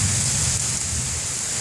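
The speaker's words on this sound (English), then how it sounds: "You hear that thunder." Heavy rain pours down steadily with a dense loud hiss, and a low rumble that fits distant thunder runs underneath, with no talk.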